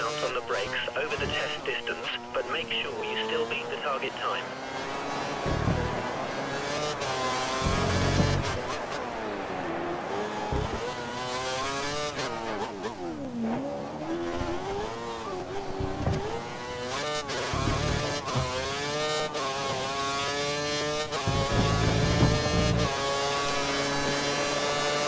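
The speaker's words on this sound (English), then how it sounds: "First time driving this track in a 2013 car." Formula 1 car from the 2013 season racing at Spain's circuit in the F1 2013 game, engine note rising and falling through gear shifts and braking, steady and continuous throughout with someone talking over it.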